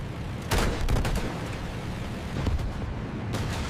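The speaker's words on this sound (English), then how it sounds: "He retaliates by firing at one of them." Machine gun fire from a B-17 bomber's .50 caliber guns during air combat with a German Bf 109 fighter: loud, dense bursts of rapid shots over a continuous roar, with no talking.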